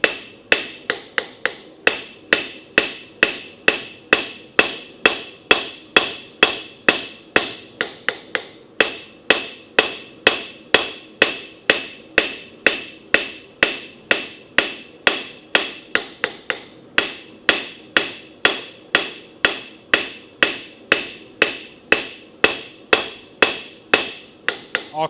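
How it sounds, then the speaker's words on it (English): Blacksmith hammering out the bevels of a blade on an anvil: steady, rhythmic, loud metallic blows about two per second, each with a sharp ringing strike, continuing without pause and with no voices. "let's keep forging these bevels out a little thinner"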